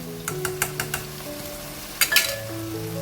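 Minced meat with peas, roasted ground cumin, red chilli powder and turmeric frying in a pan for aloo matar qeema, with a steady low sizzle broken by several sharp clinks of a spoon stirring against the pan.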